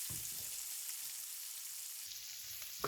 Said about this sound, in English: Toss the broccoli in the pan to cover it in all those lovely juices.